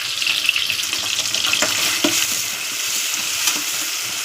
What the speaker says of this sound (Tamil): நல்லா வதக்கி விட்டுக்கோங்க தக்காளி நல்லா வதங்கட்டும்